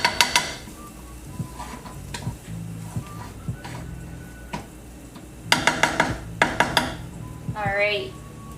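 Crab noodle soup (bun rieu) is stirred in a metal pot, with repeated close clinks and scrapes of a utensil against the pot that come in irregular bursts, heaviest near the end, over a low kitchen background.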